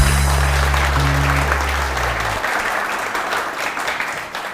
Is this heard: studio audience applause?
yes